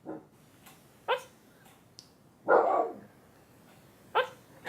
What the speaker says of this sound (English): What'd you hear? It's a dog.